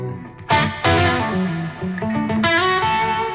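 A distorted Gretsch Falcon electric guitar with humbucker pickups strikes several thick chords that ring out with a full, heavy tone and some echo.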